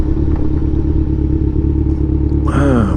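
A 2016 Kawasaki Ninja 1000 with a full system exhaust drones steadily at close range while riding, then revs up sharply near the end.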